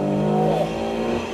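A 600 hp BMW M3 G80 accelerates in its most aggressive drive setting, with a loud, close engine drone and rising harmonic tone, heard steadily from the cabin for just over a second.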